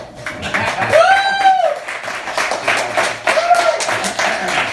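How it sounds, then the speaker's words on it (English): An audience at a talk or stage event gives a speaker another round of applause, loud close clapping with a couple of whooping, tonal vocal cheers rising over it. "Another round of applause for him"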